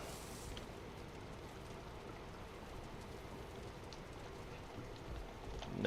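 Steady rain in the video game Valheim, a soft even patter of drops falling throughout, quiet and constant with no voices.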